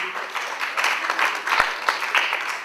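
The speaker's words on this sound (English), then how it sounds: "A nice cricket clap." Light, polite cricket-style clapping from a small wedding-speech audience for a DJ, a steady patter of scattered hands at moderate loudness, fairly close.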